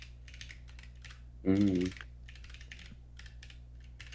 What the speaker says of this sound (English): And the lovely keyboard sounds.